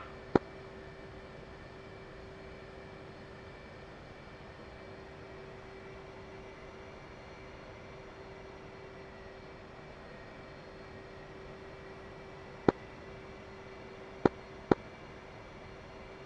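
A military training aircraft's engine gives a faint, steady drone during takeoff. It is broken only by a few sharp clicks near the start and end.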